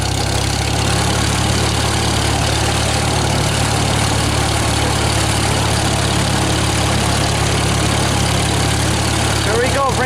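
A vehicle engine runs in gear with a steady, loud, close-up drone and a deep low rumble that holds evenly throughout.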